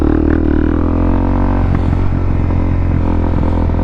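Light motorbike being ridden on the road, its engine loud and close with a buzzing drone that swells as it revs, plus some rattling clatter.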